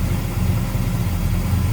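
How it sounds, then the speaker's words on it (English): A 1964 Ford Galaxie 500 XL with a 390 V8 idles close by, a loud, steady low rumble with an even pulsing rhythm, heard alone without talk. "It's smooth running, good sounding engine."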